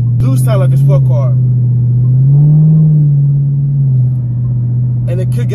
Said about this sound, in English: it's not crazy loud, but it do sound like a sport car